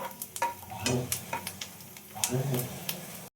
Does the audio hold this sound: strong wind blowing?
no